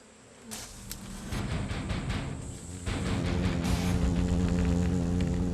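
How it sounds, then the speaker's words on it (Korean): A steady, droning buzz of giant hornets close by, growing fuller and louder as more join in, with occasional sharper passes. "장수말벌이 붙었다고."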